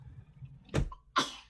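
Two quick, abrupt bursts, a sharp sneeze-like explosion followed by a second one, close and fairly loud over a low background.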